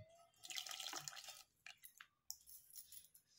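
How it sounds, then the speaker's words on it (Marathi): A little water splashes and drips over a wooden butter churn (ravi) as it is rinsed of butter, a close, brief pour followed by scattered drops and small wet knocks. "रवीवरती थोडंसं पाणी टाकायचं आहे"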